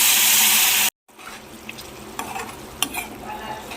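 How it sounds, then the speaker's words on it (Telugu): Water hits a hot pan of potato curry in a loud, hissing rush that stops abruptly, followed by quieter bubbling and a few stirring scrapes. "ఇప్పుడైతే కొంచెం వాటర్ పోసుకుందాం"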